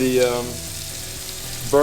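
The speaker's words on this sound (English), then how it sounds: "You can hear that sizzle." Fish frying in hot oil gives a steady crackling sizzle, with a voice talking briefly at the start and end.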